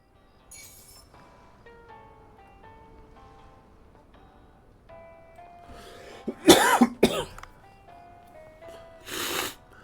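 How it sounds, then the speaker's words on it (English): A person coughs several times in a quick, loud burst, then gives one more cough after a short pause, heard over quiet background music from the diving game Dave the Diver. "Of course, I got my coughing now."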